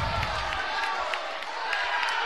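A high school basketball crowd in a Utah gym, Ogden at Box Elder, shouts and cheers in a dense continuous roar, with a commentator's voice running over it.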